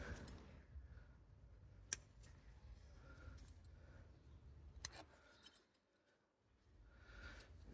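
Scissors snip the roots of a Chinese elm bonsai during repotting root work, two sharp close cuts standing out over quiet rustling and handling of the tree.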